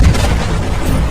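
Animated asteroid impact explosion: a loud, deep rumbling boom that sustains heavily throughout, with dense low-end roar and no talk.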